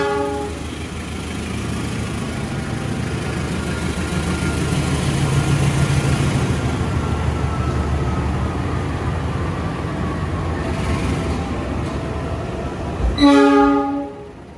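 A train pulling into Semarang Tawang station in Indonesia, its steady rolling rumble and rail noise swelling and easing before a loud, close horn blast near the end.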